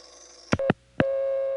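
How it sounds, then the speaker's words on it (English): Telephone receiver off-hook tone on a line where it served as a special dial tone: short bursts, then a steady loud tone that keeps sounding with no talk. "it would switch to the receiver off hook tone, which here was being used as the special dial tone"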